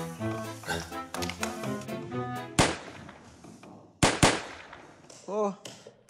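Three loud, sharp gunshots crack out, one alone and then a quick pair, over music and people talking.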